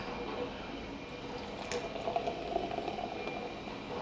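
Blue Point Toasted Lager beer pouring into a glass: a steady, fizzy liquid rush with light gurgles, fairly quiet and continuous, with no voices.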